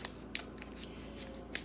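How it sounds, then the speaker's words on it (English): Several crisp snips of scissors cutting food packaging, spaced out over a quiet background, close by, with no talking. "if you're going to need scissors for opening food packaging"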